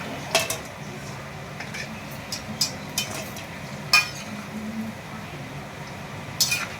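Fried chicken pieces are lifted one by one from a pan, with a faint sizzle beneath a series of distinct metallic clinks and taps of a utensil against the cookware.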